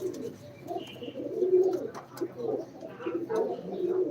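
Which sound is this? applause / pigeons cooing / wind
pigeons cooing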